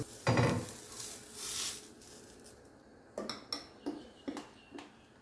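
Mung bean dosa batter mixed with chopped onion poured onto a hot pan, giving a broad sizzling hiss at first, then a series of light metallic clinks and taps from utensils against the pan.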